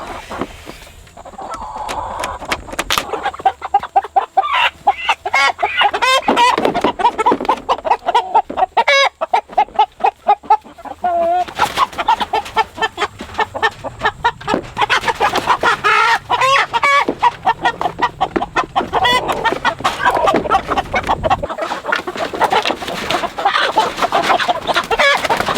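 A flock of big broiler chickens being moved into crates clucks and squawks loudly and continuously up close, with busy rustling and scuffling and occasional sharper cries and crowing-like calls throughout.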